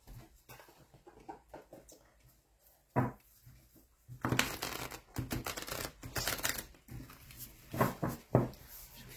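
Tarot cards being shuffled and handled on a table during a French reading, a run of close, crisp riffling and slapping bursts that grows denser in the second half.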